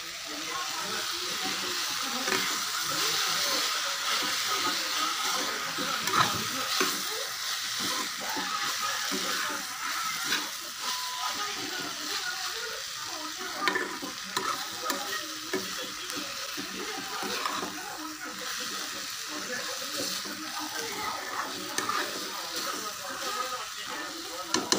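Coriander and mint leaves sautéing in a pan for radish chutney give a steady, close sizzle with stirring scrapes running throughout, fairly loud and continuous.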